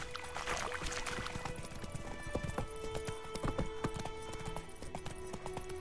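Rapid hoof clip-clop from Roach, the horse in the video game Witcher 3, galloping steadily and close, with a short neigh early on and a dense, continuous rhythm throughout.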